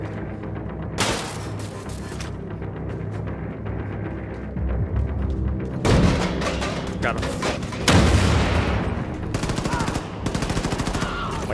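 Wolfenstein 2 gameplay with rapid automatic gunfire and heavy explosive bursts, loud and dense, as a player's voice talks briefly over the action.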